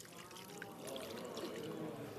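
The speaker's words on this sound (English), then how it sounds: "Then the rest of that tangerine juice that we had, we're pouring that in here." Tangerine juice poured into a cooking pot in a TV kitchen, a soft, faint liquid stream and trickle running steadily throughout.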